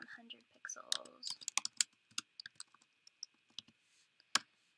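Fast typing on a computer keyboard while writing CSS code produces rapid, irregular close clicks, with a voice talking briefly at the start.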